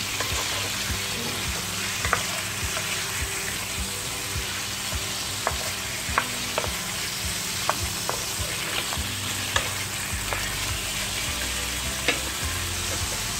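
Chicken frying in a kadai over medium heat for an Irani chicken karahi, a steady close sizzle with occasional sharp clicks of a spoon stirring against the pan, no voices.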